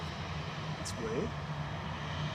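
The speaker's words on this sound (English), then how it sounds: "Right now to Barcelona, GRUKJ, flight 6596, 737-800." A Boeing 737-800 departing Manchester Airport for Barcelona gives a steady, even engine roar with a low droning hum, continuous and fairly distant across the short stretch.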